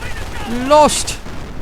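Two quick bursts of submachine gun fire from MP40s in a World War II strategy video game ring out right after a short vocal exclamation, fairly faint against the background.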